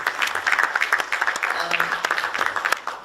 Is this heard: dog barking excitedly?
no